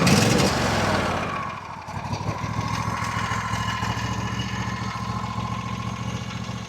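A John Deere riding mower engine, fitted with a 300 cold cranking amp battery, runs loudly at first, then dips and settles into a steady, close idle with a continuous mechanical drone.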